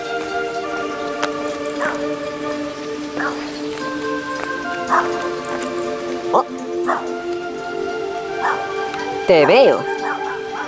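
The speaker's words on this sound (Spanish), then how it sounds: "Joder, bozarrón tiene ese chucho." A big-voiced dog at an abandoned missile silo site barks loudly in repeated single woofs spaced a second or two apart, fairly close, over a steady hum, with a brief spoken phrase near the end.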